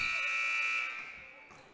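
A loud electronic buzzer ends the first half of a boys' high school basketball game, a single sustained blare that holds steady and then fades out over the gym's crowd noise.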